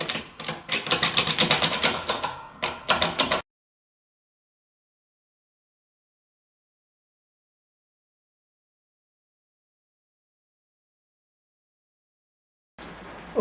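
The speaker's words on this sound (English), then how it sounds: "let's go ahead and crank on this a bit and see what we can come up with" A homemade shop press is cranked by hand, producing about three seconds of rapid rattling, ratcheting mechanical clatter, then total silence until a brief burst of noise returns at the very end.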